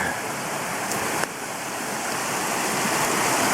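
A creek flowing near an old bridge site makes a steady, broad rushing hiss close by, constant throughout with one faint click partway through.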